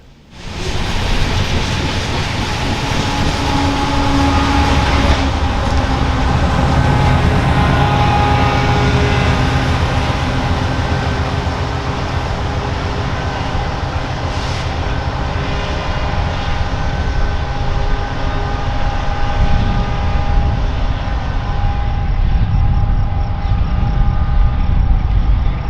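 Heavy Powder River Basin coal trains grind up a steep grade, a loud, steady roar of laboring locomotives and rolling wagons that rises quickly and holds without a break, with a faint whine running through it.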